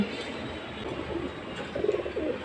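Pet pigeons kept at home coo softly in a few short, low murmuring bursts, growing a little stronger toward the end, with no talking over them.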